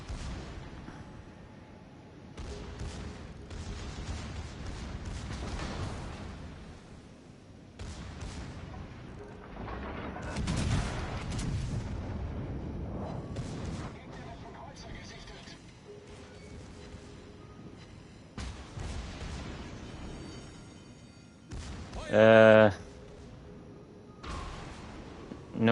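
Secondary guns on a battleship in World of Warships: Legends fire in scattered, fairly faint booming volleys spread over a long stretch, with one sharper brief sound near the end.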